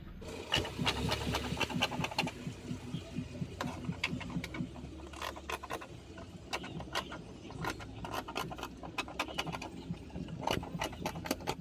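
Fabric for a baby's party frock is being cut with scissors. Crisp, irregular snips and rustles repeat close up over a low background hum, with no voices.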